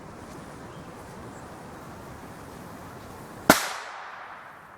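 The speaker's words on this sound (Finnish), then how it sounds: "Ja 2 laukausta." A single sharp gunshot cracks out near the end during an outdoor dog temperament test in Kangasala, Finland, its echo decaying over a second, against steady wind noise.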